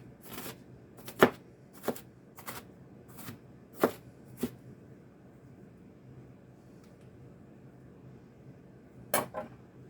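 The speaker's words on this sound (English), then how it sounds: "I'm just going to dice this onion up" A knife dices an onion on a cutting board for an omelet, giving crisp, close chopping taps in an irregular run, then a pause and a final pair of cuts.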